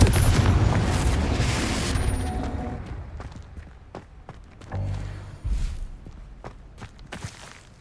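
A Confringo blasting spell from Hogwarts Legacy goes off as a loud, dense burst of booming rumble, then fades into scattered thuds, footsteps and a couple of smaller impacts.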